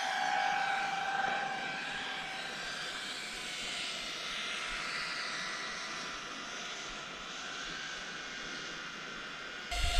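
A Geprc Tern LR40 6S FPV drone makes a fast low pass at about 35 mph, its motors giving a steady high-pitched whine with a faint tonal drone that holds evenly throughout and swells briefly at the very end.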